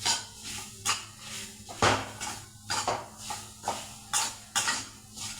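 Peanuts are sautéed until brown, a utensil scraping and clinking against the pan in a regular rhythm of close, sharp strokes, with no voices.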